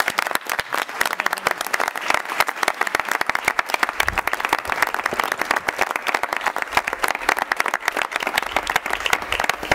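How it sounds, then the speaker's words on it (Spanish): Audience applause at a political campaign event for a mayoral candidate, sustained, loud and crackling clapping from many hands that stays steady throughout. "Un fuerte aplauso para ella."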